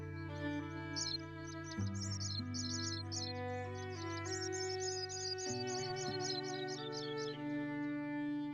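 Synthetic birdsong from the Wingspan board game, a run of bright, rapid chirps and trills repeating over a sustained droning musical backdrop, with no voices present.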